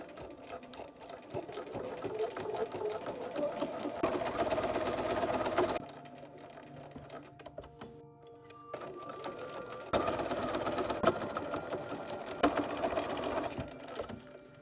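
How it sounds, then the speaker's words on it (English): A sewing machine stitches the seams of a fantasy tabard costume made from a Simplicity S318 pattern, running in long steady whirring bursts with a quieter stretch of slower stitching in the middle. "Okay, that was a lot of sewing."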